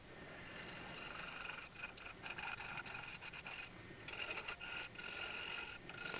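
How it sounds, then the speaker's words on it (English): A woodturning gouge is sharpened with a faint, steady scraping and rubbing of metal on abrasive, broken by brief pauses and repeated passes, with no talk. "I just stopped there to sharpen up the gouge"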